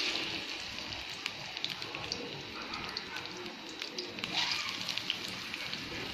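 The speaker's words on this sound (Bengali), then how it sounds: "এখন আমি এখানে পেঁয়াজ দিয়ে দিচ্ছি।" Onions frying in ordinary cooking oil for a Bangladeshi spicy chicken dish, giving a steady close sizzle and crackle with scattered pops throughout.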